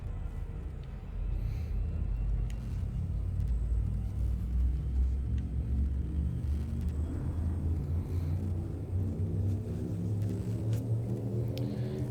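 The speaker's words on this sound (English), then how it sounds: "Frameshift drive charging." A spaceship's frame shift drive charges in Elite Dangerous, a low, steady rumbling drone that holds at constant loudness throughout, with a subtle rising pulsing hum in the lower range.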